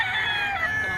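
A stag rooster crows once at a busy Bocaue pet market, a clear drawn-out call close by over steady crowd murmur.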